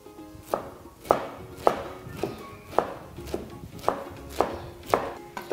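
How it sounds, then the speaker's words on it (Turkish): A knife finely chops boiled, drained sirken greens on a board with about ten sharp, evenly spaced cuts, close and clear, without talk. "fazla suyundan arındırarak küçük doğrama"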